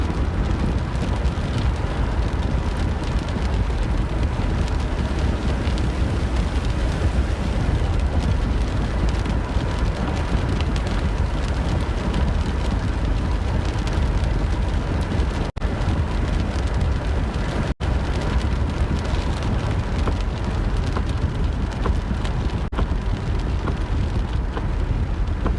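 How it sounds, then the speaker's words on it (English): Heavy rain pours steadily with gusting wind buffeting the microphone, a dense continuous roar filling the whole stretch with no voices. "Definitely did have another batch of heavy rain."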